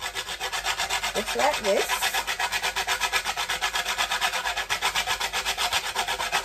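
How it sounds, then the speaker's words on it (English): A whole nutmeg is rubbed against a small hand grater in a kitchen, producing a steady rhythmic rasp of repeated scraping strokes, close and continuous with no talking. "I'm now going to grate my nutmeg. I'm going to use my little grater to grate this one."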